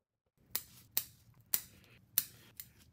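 Pruning shears snip through Japanese maple branches during spring pruning, five sharp, close cuts spaced about half a second apart, each a crisp snap with no talking.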